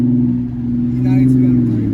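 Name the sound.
car driving past, BMW E90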